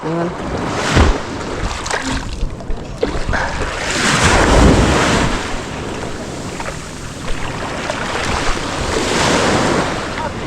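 Ocean waves churn and splash around a moving small boat struggling to dock, with heavy wind buffeting the microphone and occasional voices in the background.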